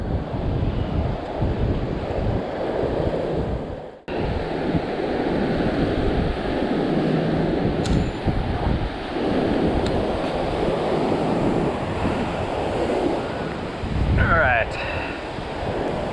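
Wind buffeting the microphone with ocean surf rolling onto the shore at a fishing spot, a loud continuous roar and rumble with a brief dropout partway through and a short faint squeak later on.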